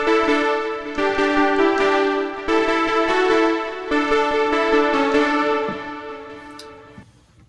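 Percussive keyboard preset 49 on a Sequential Trigon synthesizer plays a bright, plucky chord pattern in repeated stabs, loud and alone, fading out at the end.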